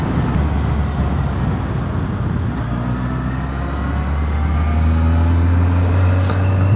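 A Honda 954 Fireblade motorcycle ridden along a road, its engine holding a steady drone under wind rush, then rising in pitch as it accelerates near the end.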